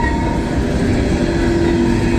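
Norfolk Southern coal train of black hopper cars rolls past at close range, a loud, continuous rumble and rattle of wheels and cars with a faint steady squeal, and no voices.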